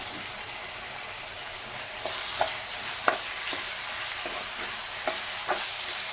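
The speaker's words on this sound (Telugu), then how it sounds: "సో అది వెళ్ళే వరకు కొంచెం ఫ్రై చేసుకోవాలన్నమాట" Masala for chicken curry fries in a pan with a constant loud sizzle, broken by a few light scrapes and taps of a stirring spoon.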